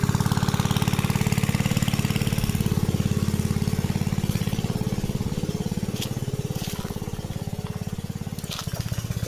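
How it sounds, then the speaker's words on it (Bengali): A suction pump machine drawing water for field irrigation, a loud, close engine chugging in a steady rapid rhythm throughout, with faint splashing and clanks over the top. "সেকশান মেশিন দিয়ে আর এইভাবে জল উঠছে, এই জল চলে যাচ্ছে"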